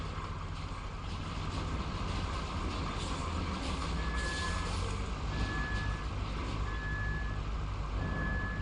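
Steady reversing beeps from a truck stuck on a job site in RoadCraft, a thin repeating tone riding over a continuous engine drone, fairly faint and unbroken throughout.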